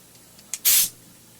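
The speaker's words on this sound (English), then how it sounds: "Now we have our leaky air hose and our long blowgun." A short, loud burst of hissing air from a leaky compressor air hose with a long blowgun, preceded by a brief faint puff, then silence.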